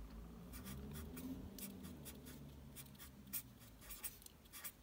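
A pen writes on paper in short scratchy strokes, a rapid run of separate scribbles and taps close to the microphone, with a soft low background hum and no speech.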